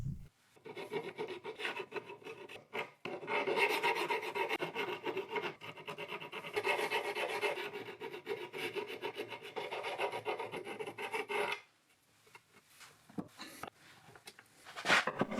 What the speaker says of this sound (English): I used a hand file to straighten the rough sawn edges a bit and remove burrs from the edges and corners